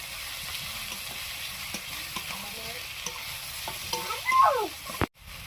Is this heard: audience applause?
no